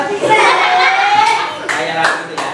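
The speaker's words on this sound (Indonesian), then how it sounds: "Tepuk tangan untuk Maulida" Children in a classroom clap their hands for a classmate after her robot presentation, a fairly close, dense burst of clapping with young voices talking over it, tapering off near the end.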